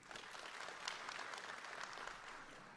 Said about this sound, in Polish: Bardzo Państwu dziękujemy za te szczodre brawa.